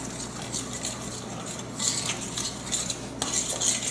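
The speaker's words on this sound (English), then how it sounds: "mix this with the biryani masala" Spoon stirring biryani masala into yogurt in a bowl, a steady run of soft wet scraping with a few light clinks against the dish, close and alone, no voices.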